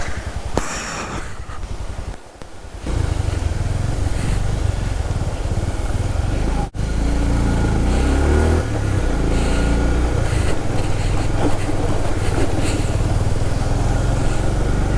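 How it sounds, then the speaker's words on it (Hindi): A motorbike on a mountain road idles briefly, then its engine picks up into a steady, loud, close rumble as it backs up and rides forward, with no talking. "पहले मेरे को बाइक को पीछे लेना है, फिर आगे बढ़ना है।"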